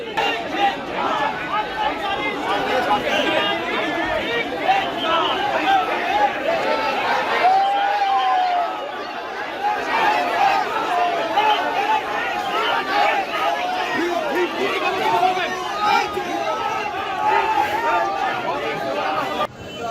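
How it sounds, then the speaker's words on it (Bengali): A crowd of lawyers chants the 'chor chor' thief slogan at a protest around an arrested official outside a CBI office, a loud, continuous hubbub of overlapping voices with a narrator speaking over it. "ওঠে চোর চোর স্লোগান।"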